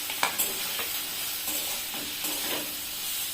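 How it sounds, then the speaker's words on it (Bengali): Green beans and carrots frying in a pan, a steady soft sizzle and hiss with a few scraping stirs of a spatula, close and alone with no talking. "এই বিনসগুলো ভেজে নেব।"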